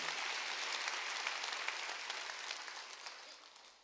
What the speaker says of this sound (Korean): 깨달은 사람만 박수 쳐요